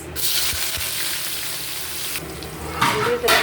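Onion with whole cumin, bay leaf, cloves, black pepper, cardamom and cinnamon frying in hot oil, a steady loud sizzle with brief stirring scrapes and a sharper crackle burst near the end.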